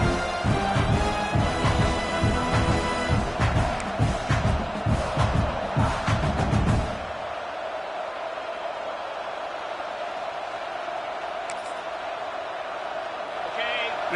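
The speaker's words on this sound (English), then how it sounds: "This crowd knows when to bring it." Football stadium crowd cheers loudly for about seven seconds during a game, then the roar drops to a steady distant murmur with faint scattered shouts.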